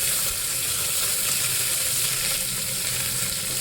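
Chopped onions fry with mustard seeds, cumin and curry leaves in hot oil in a kadai, giving a loud, steady, close sizzle with no voices.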